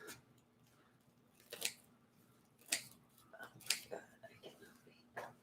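Scissors snipping through crispy focaccia bread, several sharp crunchy cuts spaced a second or so apart, close and fairly quiet, with soft talk in the background.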